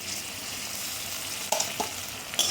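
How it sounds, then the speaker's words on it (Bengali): Onion frying in oil with a spoonful of ginger-garlic paste just stirred in for a chicken korma, a steady close sizzle with a few sharper spatters and stirring scrapes near the end. "আদা রসুনটাকেও পেঁয়াজের সঙ্গে ভালো করে একটু ভেজে নেব।"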